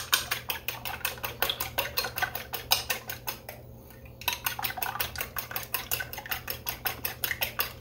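Room-temperature eggs are beaten briskly in a bowl, making a steady run of quick clinking taps of utensil against the bowl with a short pause midway, close and clear.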